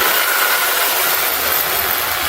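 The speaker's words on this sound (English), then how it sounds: "the power tool kind of bit hard to get, but that's why I like this Craftsman, because this Craftsman gets into little places." Craftsman power tool backing out intake manifold cover screws on a 2009 Dodge Journey 3.5L AWD, a loud, continuous close-up whir that holds steady without pauses.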